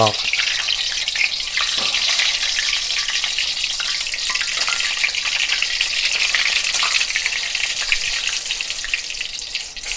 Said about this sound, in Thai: กระทะน่าจะร้อนแล้ว ไข่เป็ดที่เราต้มไว้แล้ว ใส่ไปทอดเลย